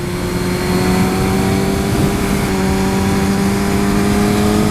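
A superbike's engine drones loudly and steadily while being ridden, the pitch shifting slightly through gear changes, close and continuous with no talking.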